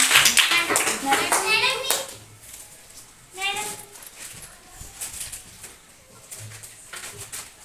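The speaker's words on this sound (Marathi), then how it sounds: "चला टाळ्या" A class of sixth-grade children at a village primary school in Jalkot breaks into a loud burst of clapping that fades out. Children's voices and chatter follow under a few scattered claps.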